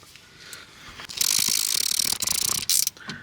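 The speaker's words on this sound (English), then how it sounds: "Give these a quick tighten and then we'll torque them." Ratchet clicking as alternator bolts are snugged on a VW-group 1.6 TDI engine, a close, steady run of rapid pawl clicks for about two seconds after a quiet start, with no talk.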